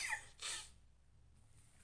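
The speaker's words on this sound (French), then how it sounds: "Je vais éternuer, je crois." A single sneeze sounds close and sharp indoors, a quick inhale then a breathy burst, followed by quiet room noise.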